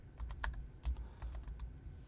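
Quiet, close keystrokes on a computer keyboard tap out a short, irregular burst of clicks over faint room hum.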